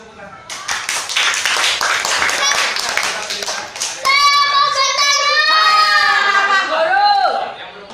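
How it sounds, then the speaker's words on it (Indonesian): Fifth-grade schoolchildren clap together in a maths class, a dense burst of hand claps for about four seconds before it gives way to loud children's voices chanting or cheering in unison. "kasih tepuk tangan."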